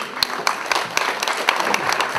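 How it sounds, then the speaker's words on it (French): Audience applause welcoming the director of the Air and Space Museum at an anniversary ceremony for a first crewed spaceflight, moderate clapping with sharp individual claps standing out over the crowd. "Je vous demande d'applaudir Catherine Monod."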